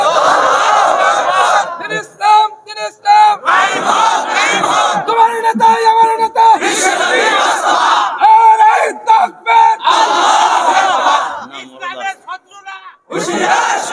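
A large crowd at a religious sermon gathering chants slogans in unison, loud rhythmic shouted phrases rising and pausing repeatedly, with a lead voice calling between the responses.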